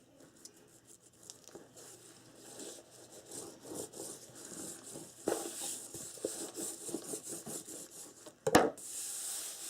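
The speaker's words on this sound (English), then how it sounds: "burnish it really well right there where the ribbon is" Paper being burnished by hand where a ribbon sits on a wedding album page, a soft, steady rubbing and scraping close up, with a sharper scuffing burst near the end.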